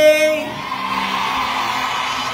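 A crowd at a fan event in SM City Iloilo mall shouts together on cue, a loud, sustained massed yell that trails off into a broad, steady roar of many voices.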